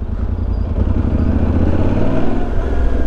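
Yamaha Ténéré 700 twin-cylinder motorcycle engine from 2022, a steady loud low rumble running close and continuous throughout, with no voices.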